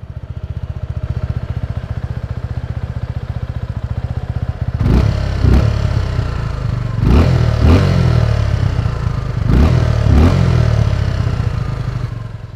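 A Suzuki V-Strom SX 250 motorcycle engine idles with a steady low rumble through its dual exhaust, then revs sharply three times, each blip rising and falling back to idle, close and loud.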